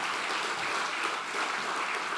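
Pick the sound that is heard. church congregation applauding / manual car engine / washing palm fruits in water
church congregation applauding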